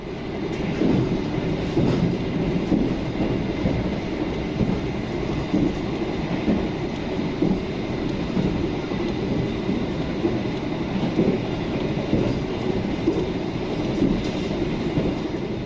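A passenger train heard from inside a carriage on the Surabaya to Solo line: a steady loud rumble with faint rhythmic wheel clatter throughout, no voices.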